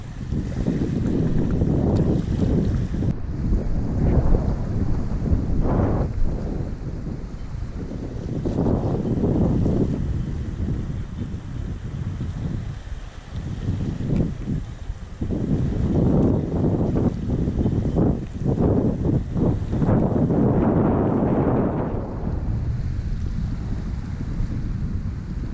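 Gusty wind buffets the microphone on a small boat out bream fishing on a windy day, a loud, continuous roar that surges and eases in waves for the whole stretch, with faint water noise beneath and no talking.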